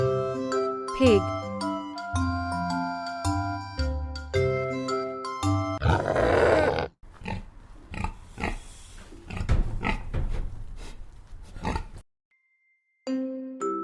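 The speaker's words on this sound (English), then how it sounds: "Pig." A pig snorts and grunts in a loud burst followed by rougher, uneven grunting, close up, after a passage of chiming music.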